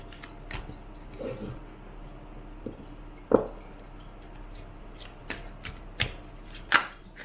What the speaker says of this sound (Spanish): Voy a barajar